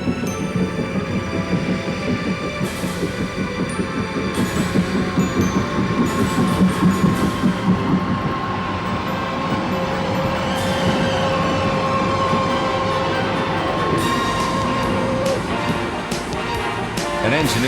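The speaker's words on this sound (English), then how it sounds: "The two locomotives are coupled and present a spectacular sight powering their way into the station at Oakworth" Two coupled steam locomotives power into Oakworth station with a steady, heavy rumble of wheels and engine, broken by repeated bursts of hissing steam, loud and continuous throughout.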